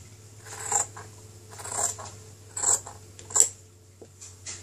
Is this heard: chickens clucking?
no